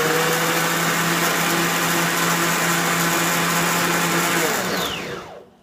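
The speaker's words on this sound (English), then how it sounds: "now I'm going to give it a quick blend to see how it is." Blender whirring steadily at high speed while mixing margaritas, loud and close, running alone without talk before winding down and stopping at the end.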